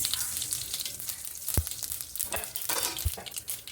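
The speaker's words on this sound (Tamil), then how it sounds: "கடுகு வந்துட்டு நல்லா பொரிஞ்சிருச்சு." Mustard seeds splutter in hot oil for a curry tempering: a continuous crackling sizzle broken by several sharp pops and a couple of louder bursts, close and unaccompanied by talk.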